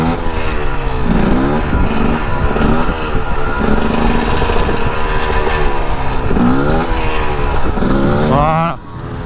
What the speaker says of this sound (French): si je fais un wheeling au frein, ouais, je vais le faire là dans la descente